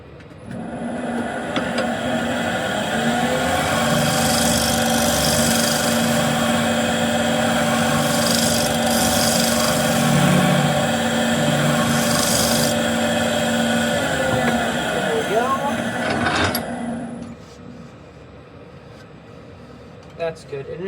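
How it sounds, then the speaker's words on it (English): Steel scraper held against a small elm bowl's bottom on a spinning wood lathe, a steady whirring drone with continuous cutting hiss for about sixteen seconds, then the motor winds down and goes quiet. "Now I'm gonna go with a scraper and just scrape that bottom part, make everything smooth"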